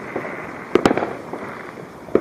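Fireworks bursting over a yard on the Fourth of July, with a few distant, muffled booms and one sharp, loud crack near the middle over a steady outdoor hiss; no one speaks.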